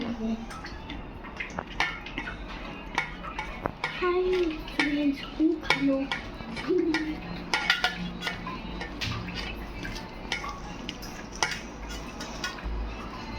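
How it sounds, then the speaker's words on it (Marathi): Fish pieces are mixed by hand with turmeric and salt in a bowl, giving soft wet squelches and frequent small clinks of the vessel, close by, with a brief voice murmuring partway through. "आता आपण हे सगळं व्यवस्थित हातानेच मिक्स करून घेऊया."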